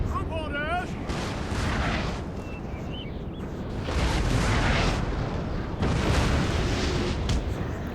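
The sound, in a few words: cannon fire in a gunpowder warfare video game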